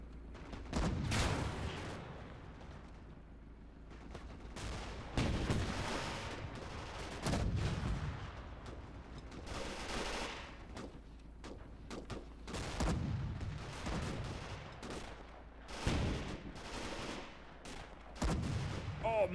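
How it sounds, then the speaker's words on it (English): Tank battle in the World War II game Gates of Hell with Panzer tanks and Soviet infantry: repeated heavy gunshots and booming cannon blasts at irregular intervals, with ricochet whines and rumbling between shots. "Tank parts flying everywhere. A lot of ricochets as well."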